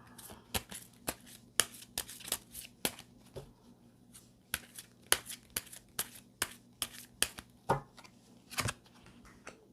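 Tarot cards are shuffled for an extra card reading, a close, crisp run of irregular riffling snaps and slaps, some clustered and some spaced out, with no one talking.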